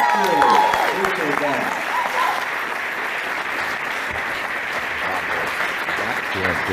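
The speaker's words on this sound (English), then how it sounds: "Give him a big round of applause, Dr. Hood." A seminar audience gives a speaker steady, moderately loud applause that continues evenly throughout, with a voice briefly heard over the clapping at the start.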